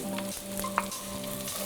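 Shallots fry in rendered bacon fat, giving a steady, close sizzle with a soft stir or clink partway through and no talking.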